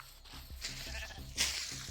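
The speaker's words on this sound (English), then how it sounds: "Sheep!" Sheep bleating in a video game, a few short bleats rising over a steady bed of game background sound, with one louder, brighter call near the end.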